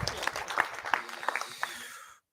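Applause for a presenter at a React developer conference in Norway, a short burst of sparse, distinct claps with some murmuring, fading out after about two seconds.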